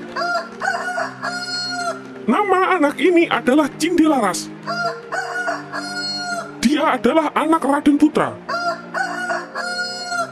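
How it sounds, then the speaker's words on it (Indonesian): A rooster crows loudly again and again in a folk-tale scene, its calls repeated and mixed with clucking, while a narrator speaks over and between them. "tak disangka ayamnya tiba-tiba berkokok dengan keras"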